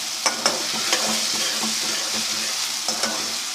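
Garlic-ginger paste and chopped onion fry in a pan with a close, steady sizzle, punctuated by sharp spoon clinks and stirring scrapes, no talking.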